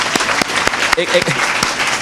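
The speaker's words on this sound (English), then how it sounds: "I think they deserve an enormous round of applause" Audience applause at a talk, scattered individual claps over a wash of clapping, with a voice speaking briefly over it midway.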